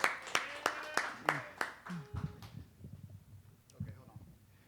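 A small group claps in a quick, fading run to welcome a musician on a couch-session music show in Nashville, with voices talking over and after the clapping.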